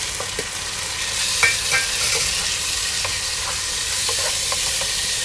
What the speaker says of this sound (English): And fry it nicely.